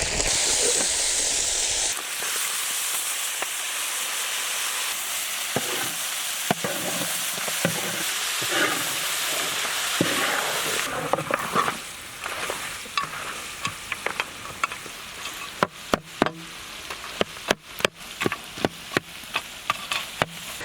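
Boiled mutton fries with curry leaves in a pan, a loud, dense sizzle that is stirred repeatedly, ending in a run of sharp scraping clatters from the spoon against the pan.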